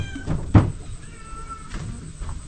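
A cat meows close by in a house, with a short, loud call near the start and a fainter one later, along with a knock and some household background noise.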